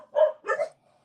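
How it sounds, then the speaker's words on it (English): Two short dog barks, moderately faint and slightly distant, sound in an otherwise quiet room during a craft session, followed by silence. "apologize for the barking dogs again"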